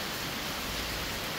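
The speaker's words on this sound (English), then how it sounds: "But the rain's coming down, the winds ain't as bad as it was." Steady, dense rain roaring without a break during a cyclone in Mauritius, a heavy wash of noise that fills the whole moment.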